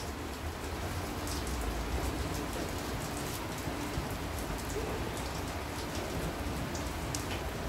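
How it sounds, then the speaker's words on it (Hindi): Heavy rain pours down steadily in Ziro, Arunachal Pradesh, a dense hiss of drops drumming on surfaces close by, with occasional sharper splatters and no talking. "देखो यहाँ पे इतना बारिश हो रहा है"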